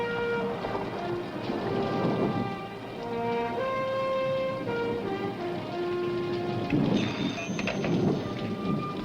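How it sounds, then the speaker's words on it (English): Steady heavy rain pours throughout while thunder rumbles and swells in waves, with a tonal musical score running underneath. "And the rains come, heavy and sustained."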